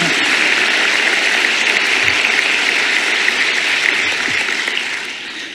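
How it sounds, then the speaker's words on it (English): A large audience claps at a medical school white coat ceremony, a dense, loud, continuous wash of applause that holds steady for several seconds before starting to taper off. "you can go ahead and clap"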